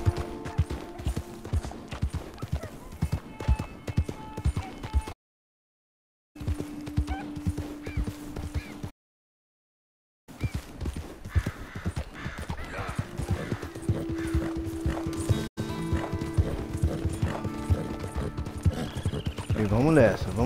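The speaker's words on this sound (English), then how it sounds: "Esse cavalo ele não é tão rápido, é um cavalo meio lerdo, mas ele é muito forte" A sturdy, slow horse in Red Dead Redemption 2 plods along with steady rhythmic hoof clip-clops, fairly quiet beneath someone talking, with two brief silent gaps.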